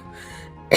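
A cat character in the video game The Sims 3 gives one short, sudden cough at the very end, breaking a quiet, soft musical background.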